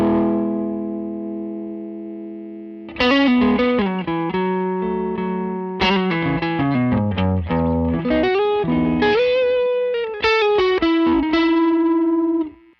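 An electric guitar runs through a Throne of Tone dual-sided overdrive pedal set as a low-gain blues clean boost, starting with a sustained chord and then playing a lively, slightly gritty riff of picked notes and chords, loud and alone.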